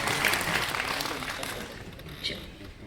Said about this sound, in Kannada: ಇನ್ನೊಂದ್ಸತಿ ಜೋರಾಗಿ ಚಪ್ಪಾಳೆ ಶಿವಪ್ರಕಾಶ್ ಅವ್ರಿಗೆ